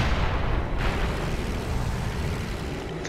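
A heavy artillery shot from a Hummel self-propelled gun in the tank game World of Tanks: a loud, dense booming blast filling the whole clip, rumbling on and slowly fading without any talk.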